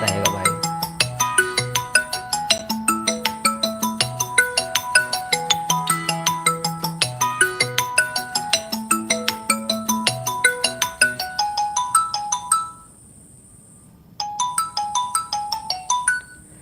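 A phone ringtone plays loudly during a classroom lecture, a repeating electronic melody that runs continuously, pauses briefly near the end, then resumes.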